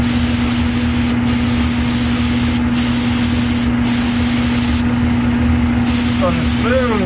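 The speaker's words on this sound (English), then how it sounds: "How this stuff sprays on Folkart." A spray gun hisses out 2K clear coat over folk art pieces in a loud, steady spray with a few brief breaks in the flow, and a voice speaks briefly near the end.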